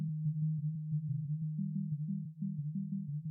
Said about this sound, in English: Just computer generated music.